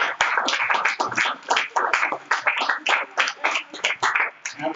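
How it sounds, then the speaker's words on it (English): A workshop audience applauds, steady rapid clapping from a small crowd, close and lively, continuing throughout without talk. "Give them a round of applause."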